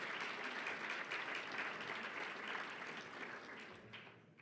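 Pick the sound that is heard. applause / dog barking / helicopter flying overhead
applause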